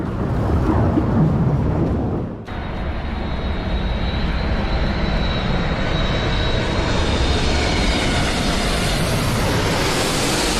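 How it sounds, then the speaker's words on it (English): A fighter jet touches down and takes off again at once, a thunderous engine roar. It cuts off briefly after two seconds, then returns as a steady, loud, broad rumble with a rising whine that keeps building. "This fighter jet touched the ground and immediately took off again."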